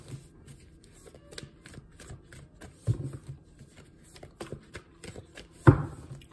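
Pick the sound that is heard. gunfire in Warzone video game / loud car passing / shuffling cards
shuffling cards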